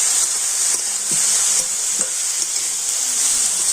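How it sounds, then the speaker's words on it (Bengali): Chopped vegetables and four finely cut green chillies stirred in a pan, a steady frying sizzle with spoon scrapes and knocks repeating every half second or so, close and alone without voices. "সমস্ত কিছু দিয়ে আমি দু মিনিট একটু হালকা নাড়াচাড়া করে নেব"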